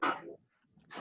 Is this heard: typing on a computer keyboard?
no